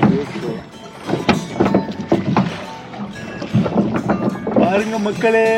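Oars work a small rowboat on a Swiss lake, with repeated splashes and wooden knocks in an uneven rhythm close by, while people talk and chant over the strokes.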